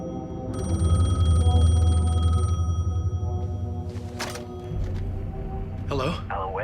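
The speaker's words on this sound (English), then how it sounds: "phone was ringing" Telephone ringing in the video game Alan Wake 2, a loud sustained electronic ring lasting about two seconds over a low drone, followed by eerie swooshes and spoken voices.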